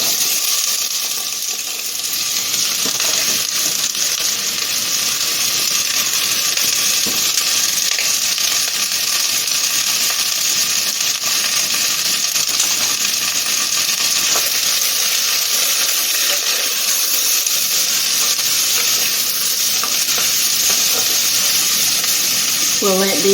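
Turnip, carrot, celery, onion and sweet potato sizzle steadily in a pot, a loud continuous frying hiss with occasional stirring clatter across the whole stretch.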